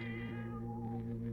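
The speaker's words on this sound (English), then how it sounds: "That cat belonged to my wife." A cat meowing as a radio drama sound effect, one drawn-out, mournful meow heard close and alone.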